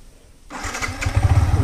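A Yamaha MT15 BS6 motorcycle engine cranks and catches after a brief quiet moment, then settles into a pulsing idle that is loud and close.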